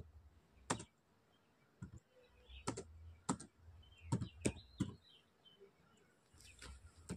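Keys on a computer keyboard clack while a COUNTIF formula is typed into an Excel spreadsheet, in short irregular bursts of crisp clicks with pauses between, close and clear with no talking.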